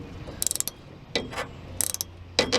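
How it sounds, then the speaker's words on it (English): A wrench ratchets against a spinning nut on a Ford F150 front shock during replacement, giving clustered metallic clicks in four short bursts, fairly close and moderately loud with no talking. "See how this nut's spinning?"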